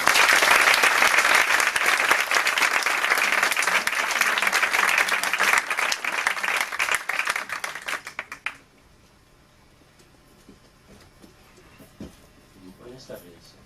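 Dense audience applause at a round-table of Guinean writers, loud and sustained for about eight seconds before it cuts off sharply, after which a quiet room and faint speech remain.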